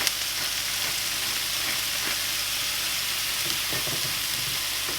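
Burger patty seasoned with salt and pepper sizzling in a pan: loud, continuous frying hiss and crackle, steady from start to finish.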